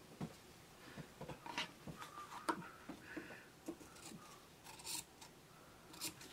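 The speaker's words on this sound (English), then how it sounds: "I'm just trimming away all the excess," Scissors trimming excess fabric from a quilt block, faint close snips and rustles of cloth coming in an irregular string over a quiet background, no talking.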